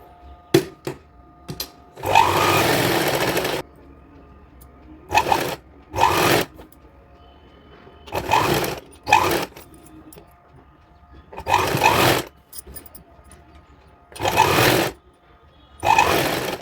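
Bursts of a sewing machine stitching strips for a designer kurti, close and loud, each run lasting one to two seconds, separated by pauses with faint handling clicks and rustles.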